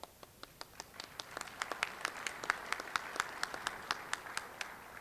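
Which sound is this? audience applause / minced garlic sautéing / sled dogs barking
audience applause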